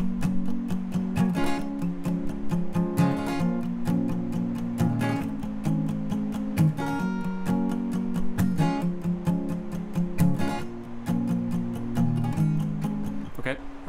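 Acoustic guitar strums the chords of a song, adding a quick down-up flick at each chord change. The strums are close, clear and steadily rhythmic over about fourteen seconds, with no talking.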